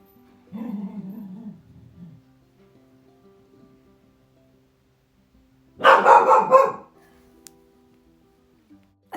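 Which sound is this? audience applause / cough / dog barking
dog barking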